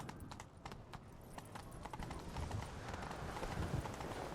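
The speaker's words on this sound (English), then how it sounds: "Grab a horse, we'll chase him down." Rapid hoofbeats of a horse in The Witcher 3 clatter in a galloping rhythm beneath a low rumbling background, steady and fairly distant.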